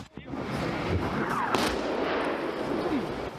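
Artillery fire during wartime shelling in cold weather, a dull continuous rumble of distant booms with a sharper blast near the middle, heard alone without speech.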